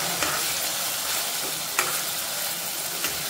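Tomatoes and chillies fry in a pan with a steady, close sizzle, and a few sharp clicks of a stirring utensil scrape against it.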